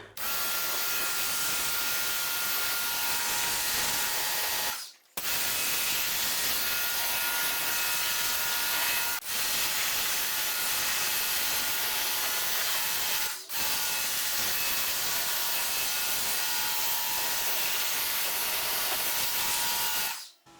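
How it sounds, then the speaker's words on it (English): Pressurized water spraying over a ceramic-coated car during rinsing, a loud steady hissing rush in long bursts with three brief pauses between them. "So here's the rinse off."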